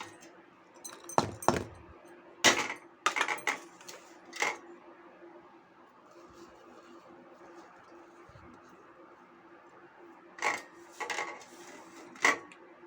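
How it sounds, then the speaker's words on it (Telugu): Grated jaggery being mixed by hand into homemade sunnundalu powder in a bowl: scattered dry rustling and clinks in short bursts, separated by quiet stretches with faint room background. "మొత్తం బెల్లంతో ఇలా కలిపేసుకోవాలండి ఫస్ట్"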